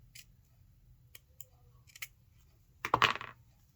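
Scissors trim material on a small costume piece for a figure, a few faint, sparse snips and then one closer, crisper cluster of cuts near the end, heard alone in a quiet room.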